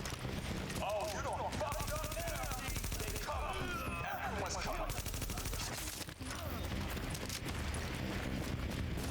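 Rapid bursts of automatic gunfire in Tom Clancy's The Division, a third-person shooter, crackle steadily throughout under a voice, with dense repeated shots and a brief lull near the end.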